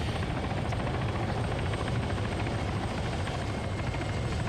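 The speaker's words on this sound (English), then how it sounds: "I think I saw that the other helicopter is towing a Pawnee." Helicopter rotor and engine drone from a video game scene with a helicopter towing a Pawnee, a steady, fairly faint throbbing that stays alone and unbroken throughout.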